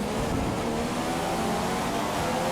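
A race car engine in the F1 2015 video game holds steady at high revs, a loud continuous mid-pitched whine and roar throughout with no speech.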